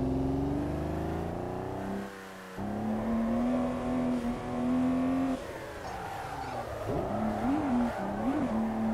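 Racing video game car engine revving hard with sustained high-pitched drone, gear changes and a short drop, then pitch swoops and tire noise toward the end, loud and continuous with no talk.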